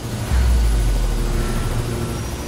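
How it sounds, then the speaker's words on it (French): A helicopter in the video game Mirror's Edge makes a loud, low rotor thrum that swells suddenly and then holds steady and close for a couple of seconds. "J'avais même pas vu l'hélicoptère."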